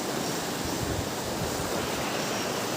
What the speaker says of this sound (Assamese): চাওক কাৰ্বি-আংলঙপি নদী